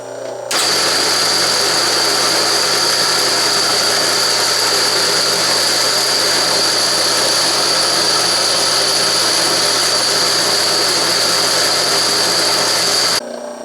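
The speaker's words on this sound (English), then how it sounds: "Now let me go ahead and start up the bandsaw." A Delta bandsaw fitted with a gear motor starts up and runs steadily, giving off a loud, constant mechanical drone with a steady high whine that continues for several seconds, then cuts off abruptly. No one speaks.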